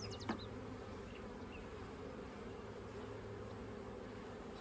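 Honey bees buzzing inside a hive colony, a continuous low droning hum close by with a brief sharper buzz near the start, no talk.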